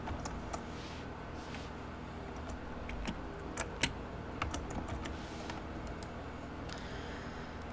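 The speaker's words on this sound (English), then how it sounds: "You can also type the information in rather than utilizing the drop-down menus." Quiet typing on a computer keyboard, a sparse series of light key clicks and taps, some slightly louder, over a faint steady room hum.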